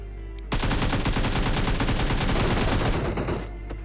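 Burst of automatic gunfire in PUBG Mobile, a fast, loud, sustained volley of shots lasting about three seconds after a quiet start, then cutting off.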